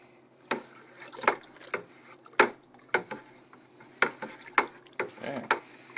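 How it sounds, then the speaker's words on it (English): A spoon stirs a honey mead mixture with yeast in a container, making a steady rhythm of wet swishes and light clinks about every half second, up close and fairly quiet. "So just give it a good stir."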